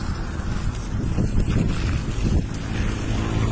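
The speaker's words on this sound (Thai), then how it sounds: "ลมแรงลมแรง" Strong wind buffets the microphone with continuous loud roaring gusts that swell and ease over the whole span.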